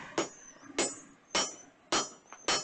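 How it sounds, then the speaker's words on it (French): Hammer blows ringing on an anvil at a medieval forge near a castle, five sharp metallic strikes in a steady rhythm about half a second apart, each with a bright ringing tail, fairly close and alone. "J'entends un marteau sur une enclume."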